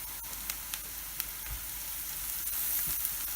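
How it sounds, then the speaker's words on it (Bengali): Spices go into onions frying in a pan for a Bangla egg fry. A steady, close sizzle carries through with faint scattered clicks and pops. "এখন আমি এই সমস্ত মশলা ঢেলে দেব।"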